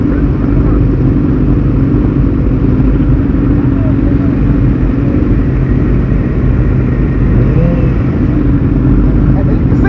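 Motorcycle engines at a night bike event, a steady loud idling rumble from many bikes close by running the whole time, with crowd noise and talk mixed in.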